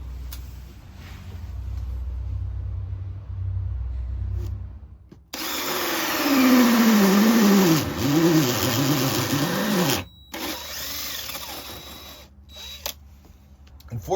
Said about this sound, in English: After I get this hole drilled